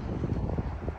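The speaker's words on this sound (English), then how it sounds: "It's windy and cold as hell today." Gusty wind buffets an outdoor microphone on a cold day, a steady low roaring rumble that surges and swells throughout with no clear voices.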